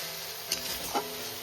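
Poppy seeds frying in a pan, a steady close sizzle with a couple of brief scraping stirs.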